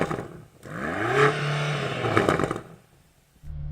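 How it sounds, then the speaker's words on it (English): A BMW engine revs up to its soft limiter, climbing in pitch as it builds, then holding at the cut-off before dropping away to a quiet idle and catching again at the end. "So I'm going to rev up this car and we'll see what it sounds like."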